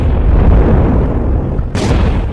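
Explosions from Israeli attacks on Iran, a loud, sustained rumbling blast with heavy low-end roar, followed by a brief sharp crack near the end.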